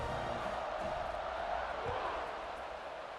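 A video-game crowd roars steadily at kickoff of a college football game between Indiana and Purdue, a dense, sustained wash of cheering that holds level throughout.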